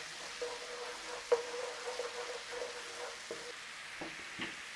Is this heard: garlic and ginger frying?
yes